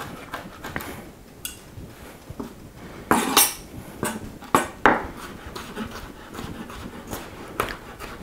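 A knife chops olives by hand for tapenade, making irregular close taps and clicks on a board, with a few sharper knocks and scrapes in the middle.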